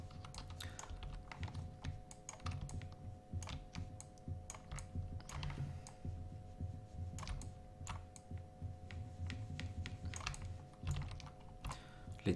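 Computer keyboard and mouse clicks while working in 3D painting software, with a steady run of sharp taps and clicks over a low background hum, close and fairly quiet, no talking.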